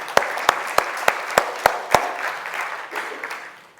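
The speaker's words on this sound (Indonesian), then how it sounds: "Ya, tepuk tangan." Church congregation applauding two senior members during a service: a few sharp, evenly spaced loud claps close by over a wider crowd clapping that thins out and fades.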